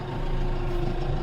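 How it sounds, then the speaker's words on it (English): A 2020 Case Farmall 75C tractor drives through a field, its diesel engine a close, steady low rumble with a constant hum, brief and unbroken. "We're just gonna go drive this tractor through the field"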